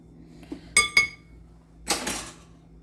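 Salmon burger mixture being mixed in a bowl, a couple of sharp clinks of utensil against the bowl followed by a brief scraping, mushy stir, close and alone.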